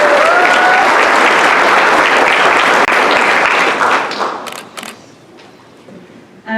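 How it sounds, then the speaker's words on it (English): Audience at a county 4-H achievement night applauding a young vocal performer, loud dense clapping that holds steady and then tapers off near the end. "let's give her a round of applause"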